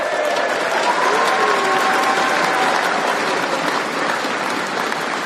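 Crowd at a political rally clapping loudly and steadily throughout, a dense continuous wash of applause with a faint voice or cheer threading underneath.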